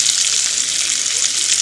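Onion sizzling and frying in oil in a pan while cooking a Bengali prawn mustard curry, a steady hiss of crackling fat that stays close and even throughout.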